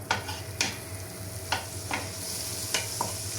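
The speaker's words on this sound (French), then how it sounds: "Une fois que le beurre est fondu, on y met les échalotes." Shallots stirred in melted butter in a pan, a low sizzle running throughout while a utensil scrapes and taps against the pan about six times at an uneven pace, with no talk.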